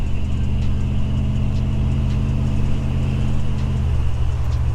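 Steady low engine drone and road rumble inside a 1966 Plymouth Fury VIP Edition cruising at 45 mph, with a constant hum and even loudness throughout and no talking.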